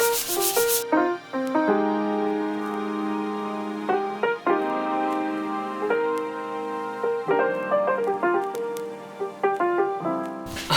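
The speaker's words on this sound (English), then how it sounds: "I'm just going to sand it and drill the holes and put the hardware on." Sustained rubbing and grinding of sanding on wooden furniture, with tonal whining that shifts pitch as the tool moves, loud and close, with brief pauses.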